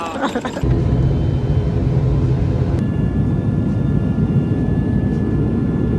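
Loud, steady airplane cabin roar in flight, a low broadband rumble that sets in after a brief opening and runs continuously, with voices faintly under the noise.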